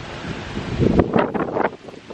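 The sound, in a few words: warm wind blowing outdoors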